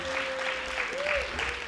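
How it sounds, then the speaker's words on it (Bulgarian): Brief audience applause at a guitar festival exhibition, a thick patter of clapping running under a sustained hum-like tone and a faint voice throughout. "Аплодисменти."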